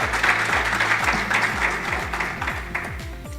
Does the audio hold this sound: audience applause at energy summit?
yes